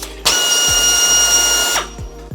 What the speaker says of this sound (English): And then this hole right here, we're gonna put in this nut rivet here.